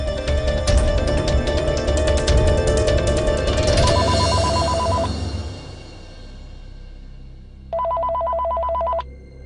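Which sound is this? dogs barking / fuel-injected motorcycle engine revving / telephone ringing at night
telephone ringing at night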